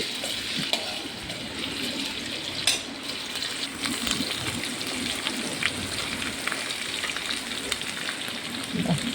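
Chopped onions fry in hot oil with ginger and chillies for a fish biryani, giving a constant rain-like sizzle with scattered pops and crackles at a moderate level.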